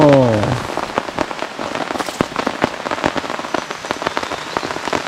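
Rain patters steadily on a surface close by at a forest campsite, a dense crackle of drops throughout, after a brief voice at the start.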